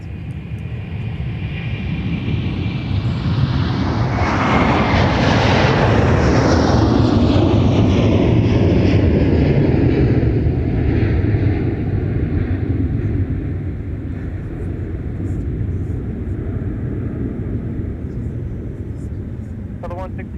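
A Delta Airbus A330-300 heavy jet roars down the runway on its takeoff roll at MSP airport, a loud, broad engine rumble that swells to a peak and then slowly fades as it climbs away, with voices talking over it.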